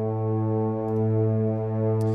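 Metropolis Ark 2 euphonium doubled with cello, a soft, warm sustained chord swelling gently and holding steady throughout, close and alone with no talk.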